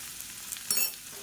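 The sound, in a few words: vegetables being sautéed in oil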